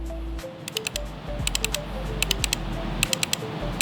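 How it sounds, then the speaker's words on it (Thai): Left clicks on a Corsair Scimitar Elite Wireless SE gaming mouse: sharp, bright clicks in quick clusters of three to five, repeated several times close up over a low steady hum, with no talking. "เดี๋ยวมาลองฟังเสียงเมาส์กันเวลาคลิกเวลากดปุ่มด้านข้างจะเป็นอย่างไร เริ่มจากการคลิกซ้ายก่อน"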